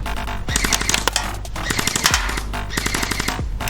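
A Zhenduo Kriss Vector V2 gel blaster fires in burst mode at a sheet-metal target, giving rapid, loud mechanical clattering bursts with short pauses between them.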